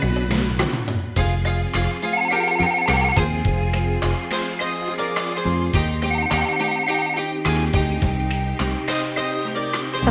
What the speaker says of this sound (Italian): Sta squillando il telefono